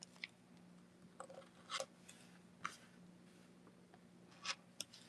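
Scissors snipping the leftover points off quilt block pieces for an Ohio Star block, a few faint, sharp, separate cuts spaced over several seconds against a quiet room hum.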